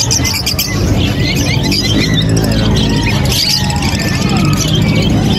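Birds chirping at a busy pet market selling lovebirds and parakeets, a dense chorus of high tweets and squeaks over loud crowd hubbub and nearby talking.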